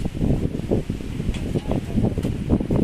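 Gusty wind blows hard outside before a coming storm, a rough low rush with pulsing surges and faint rustling, moderately loud and without talk.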